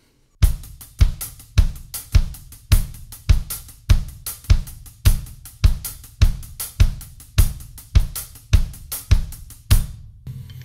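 Played faster, a drum kit layers accented hi-hat fours against a kick drum pattern of three, a brisk, steady run of close, punchy hits starting after a moment of silence.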